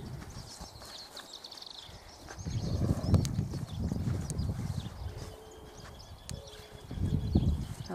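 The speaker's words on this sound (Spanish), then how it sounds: "Es un caballo un poco desconocedor por ahí, que acá Roberto, el dueño, me lo muestra" A working ranch horse, a chestnut about 1.47 m tall and shy with strangers, shifts and walks on the ground, its hooves clip-clopping in a few soft irregular bursts close by, with faint birds in the background.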